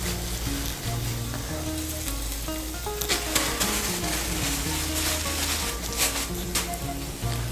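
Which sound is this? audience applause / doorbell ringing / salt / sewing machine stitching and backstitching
salt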